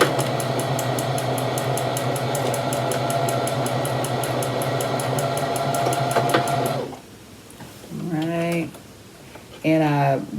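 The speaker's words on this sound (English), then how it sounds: "I back stitch when I start sewing." A sewing machine back stitching while sewing a McCall's 8112 garment runs with a loud, steady rapid whir, then stops abruptly, after which a person talks.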